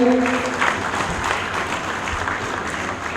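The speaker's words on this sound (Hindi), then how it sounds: "आदरणीय सुनील कुमारी जी जोरदार तालियों से स्वागत करें" An audience at a community stage event in Bihar claps steadily as an honoured guest is welcomed, a continuous dense wash of applause with a brief tonal voice near the start.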